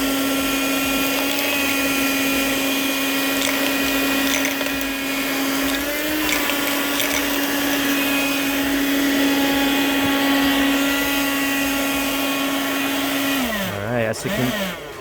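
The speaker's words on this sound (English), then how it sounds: "let's grab some coins here and try to vacuum them up" A handheld multifunctional car vacuum cleaner whines steadily for about thirteen seconds at a constant pitch as it sucks up coins, with brief rattles, then winds down at the end.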